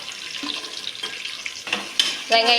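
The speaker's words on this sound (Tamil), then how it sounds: "அடுத்ததாக வெங்காயத்தை போட்டுக்கலாம்" Onions dropped into hot oil for a vegetable biryani sizzle and crackle as they are stirred in a pan, with spoon scrapes and a sharper burst of frying near the end.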